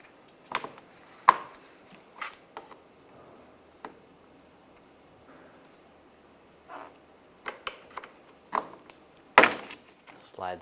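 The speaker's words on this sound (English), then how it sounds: "I'm just going to use a trim tool or a pick" Plastic trim tool prying and clicking a panel loose from the front bumper of a 1999-2005 Volkswagen Jetta, a few sharp snaps and taps spread across quiet work, close by.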